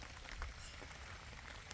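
Rain falling in a quiet village garden: a faint, even patter that stays steady and sounds distant.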